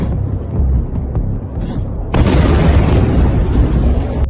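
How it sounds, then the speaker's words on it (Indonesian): A loud, dense rumble of missile explosions over Tel Aviv, with a sudden sharper boom midway that lifts the roar and sustains it as a continuous heavy barrage. "Puluhan ledakan terdengar di wilayah selatan hingga pusat kota Tel Aviv."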